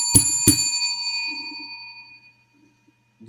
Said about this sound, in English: Get the bell. A whole bunch of bells.